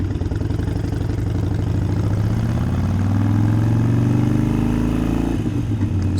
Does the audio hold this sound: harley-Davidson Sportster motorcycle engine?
yes